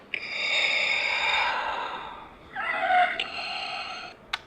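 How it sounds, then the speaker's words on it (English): Darth Vader Black Series electronic helmet plays its mechanical breathing effect: a long, close, hissing inhale followed by a raspy exhale, ending in a sharp click. "this little button on the side, it's going to activate your breathing noises for the mask"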